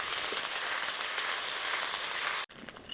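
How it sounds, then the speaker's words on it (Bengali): Ground onion paste and green chillies fry in oil for a mustard fish curry, making a dense, even hiss that holds steady, then cuts off abruptly near the end. "ভালোভাবে পেঁয়াজটা ভাজা হয়ে গেছে"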